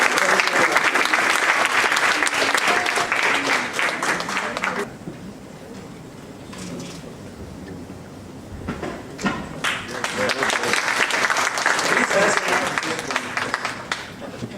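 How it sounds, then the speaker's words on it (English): An audience at a youth leadership program finale applauds a volunteer, with loud sustained clapping that dips into a quieter lull midway and then swells again. "Round of applause for-"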